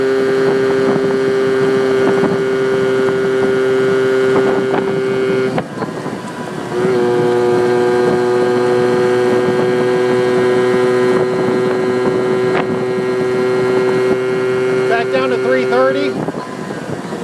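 A Yamaha Towny moped engine drones steadily as it winds out near 40 on a cold spring ride, with wind buffeting and a brief dip in pitch around a gear change; a voice murmurs briefly.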